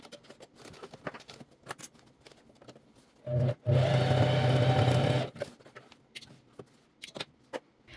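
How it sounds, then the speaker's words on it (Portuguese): Sewing machine running a reinforced seam on bag handles, one close burst of fast stitching lasting about two seconds, framed by quiet handling taps and rustles before and after. "vai para a máquina e passa uma costura reforçada, tanto desse lado quanto do outro"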